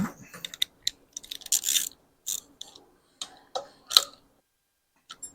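A torque wrench tightens bolts on a 2012 Harley-Davidson Softail Heritage Classic during a charging system replacement, giving scattered sharp clicks and ratcheting ticks up close, some in quick bursts with quiet gaps between.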